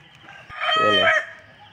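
A rooster among pet chickens at a provincial home lets out a single clear cock-a-doodle-doo, close and moderately loud, rising and falling over about a second against quiet surroundings.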